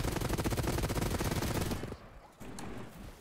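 Rapid automatic gunfire in the video game Hawked, a dense fast burst of shots that stops abruptly, followed by fainter scattered sounds.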